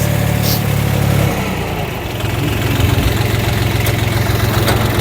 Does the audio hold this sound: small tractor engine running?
yes